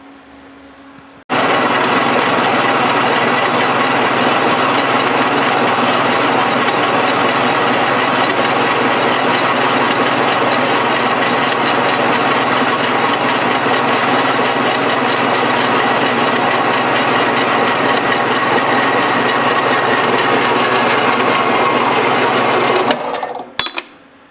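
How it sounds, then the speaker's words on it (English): A machine tool runs loud and steady for about twenty seconds, cutting a metal part for a homemade Maytag upright engine, with a dense grinding whir that stops abruptly at the end. "Alright, I'm cutting here, and I have my cutting tool there"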